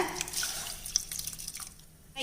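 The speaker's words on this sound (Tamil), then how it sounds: "தேவையான தண்ணி விட்டுக்கலாம் நம்ம கஞ்சியாக தான் செய்ய போகிறோம்" Water poured into a pot of soaked rice and lentils for rice porridge: a soft, steady trickle and splash, close and fairly quiet, tapering off toward the end.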